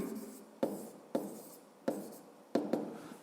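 A pen scratches across paper in short handwritten strokes while working a fifth-grade maths exercise, close and quiet, with a sharp tap at the start of each stroke.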